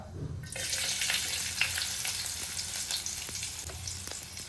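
Chopped onion with cumin hitting a little hot oil for potato rice, bursting into a loud, steady sizzle after a brief quiet start, with faint stirring clicks scattered through the frying.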